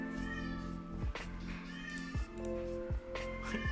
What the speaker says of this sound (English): My cat is screaming in the background.